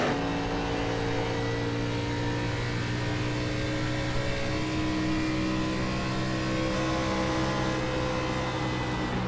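Race car engines in an Xfinity Series racing video game at Texas, a steady droning roar with whining tones held throughout, loud and constant with no pauses.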